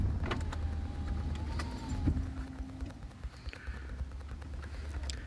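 Cars move slowly through a busy town street crowded with people at a raid gathering, forming a steady low traffic rumble with occasional faint clicks and clatter nearby.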